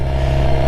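A motorcycle engine at low, steady revs with a rough, throbbing hum close by as the clutch is released and the bike pulls away.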